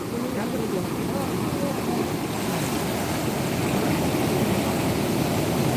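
The flooded Sindfana river surges under a bridge near Nimgaon Mayamba in Beed district, making a loud, dense, continuous roar of rushing water. Faint voices may sit beneath it.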